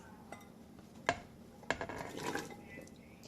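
Chunks of potato and carrot drop into a beef stew pot with a couple of sharp clinks of utensil on metal, followed by soft rustling and tumbling, quiet and close.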